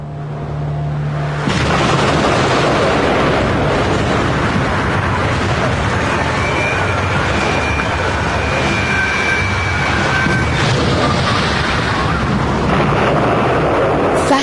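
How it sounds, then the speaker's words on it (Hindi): The Fat Man atomic bomb explodes over Nagasaki: a sudden onset swells into a long, loud, sustained roaring rumble that fills the whole stretch without letting up. "फैटमैन में विस्फोट हुआ।"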